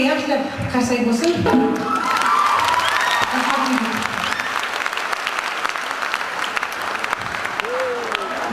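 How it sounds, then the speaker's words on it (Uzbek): A concert audience at a Uyghur show in China breaks into loud, sustained applause that swells and carries on throughout, with scattered cheers and shouts rising over the clapping. "Abdulg'aniga yaxshilab qarsak bo'lsin."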